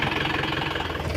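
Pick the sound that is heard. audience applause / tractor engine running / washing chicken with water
tractor engine running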